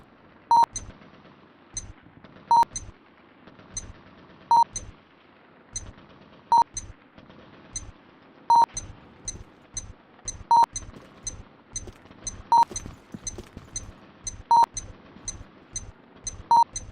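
A planted bomb in a video game beeps in a steady, regular rhythm of sharp electronic tones, with soft thuds and clicks running underneath.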